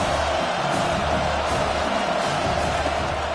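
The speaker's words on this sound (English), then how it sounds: "decibels rising as the crowd gets behind this defense on third down" A stadium crowd at a football game roars steadily behind the defense on third down, a dense, sustained wall of cheering and noise with no break.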